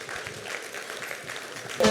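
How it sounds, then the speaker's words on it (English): Audience applause at an energy management awards ceremony in Kenya greets a speaker, a steady dense wash of many hands clapping at moderate distance, with a voice starting to speak near the end. "A round of applause, please."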